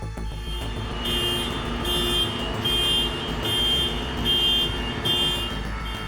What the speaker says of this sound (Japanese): 鳴り響くクラクション。